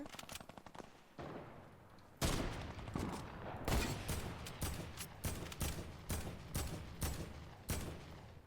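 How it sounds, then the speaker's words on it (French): Gunfire in the video game Fortnite: a burst of rapid automatic shots followed by a steady run of loud, evenly spaced shots with mechanical clicks, fairly close. "Fais gaffe, ça me tire des balles."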